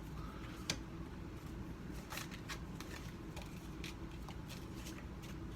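Tarot cards shuffled by hand: soft, quiet riffling and papery flicks in an irregular run, with one sharper snap near the start and a few brief slaps scattered through, close by and with no talk.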